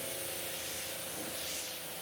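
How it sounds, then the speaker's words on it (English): Citrus cleaner being sprayed off a car with a pressure sprayer, a steady broadband hiss holding close and loud for the whole stretch with no talk. "I'm gonna spray it off of the whole car"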